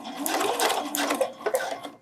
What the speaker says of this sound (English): put the needle down, turn it, just so I can sew along this top edge